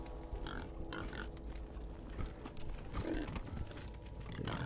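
Pigs in the video game Wasteland 3 grunt and snort at low level against a steady ambient game background. No one speaks.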